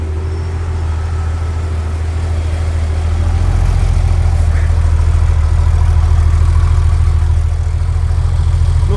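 Air-cooled Porsche 993 flat-six idling steadily at full operating temperature with its cooling fan running, a constant low rumble and fan whoosh that swells slightly louder partway through, with no talking.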